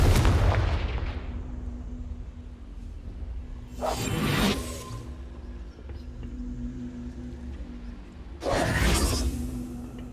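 Confringo fire spells in Hogwarts Legacy hit with two loud, whooshing blasts a few seconds apart, each rising out of a rumbling game background after a heavy opening boom.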